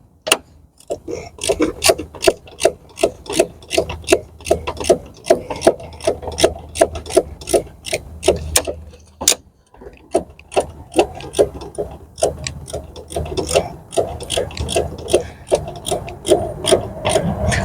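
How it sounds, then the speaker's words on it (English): A hand ratchet tightens a bolt on the ABS pump of a Renault Scenic III, giving rapid rhythmic clicking strokes up close with short pauses between bursts. "now the ratchet on it."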